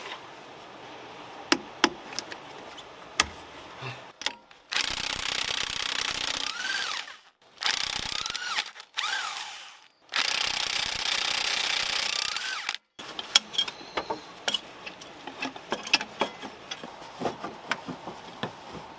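Bolts being removed from the turbocharger where it joins the exhaust manifold of a Suzuki Jimny JA22: sharp metallic clicks and ratchet ticks, broken up by several long, loud bursts of power-tool buzzing lasting a few seconds each, close by.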